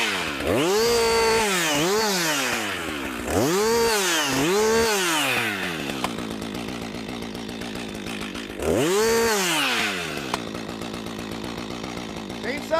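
A chainsaw used to fell a tree revs loudly in repeated rising and falling bursts, dropping to a steady idle between them and then roaring up to full throttle again, close by.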